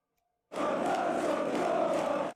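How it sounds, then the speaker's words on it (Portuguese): A stadium full of football fans chants in unison, a dense, steady roar of massed voices that starts abruptly, holds for about two seconds, then cuts off. "O canto, que afirma que Manor Solomon odeia a Palestina, foi originalmente entoado por torcedores do Leeds United"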